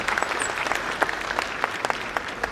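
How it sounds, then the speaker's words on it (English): A crowd at a formal gathering claps in a brief round of applause, with distinct individual claps standing out from the steady patter. "So please, a round of applause for government and for the president"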